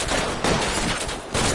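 Dense gunfire from a shootout in the crime game L.A. Noire, a continuous crackling barrage of rapid shots filling the clip with only brief dips in intensity.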